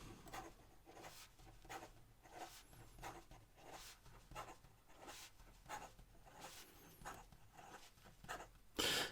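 A Pineider Avatar UR fountain pen with a fine nib writes quickly on paper, giving a soft, close, rhythmic scratching of repeated strokes that ends with a brief louder rustle.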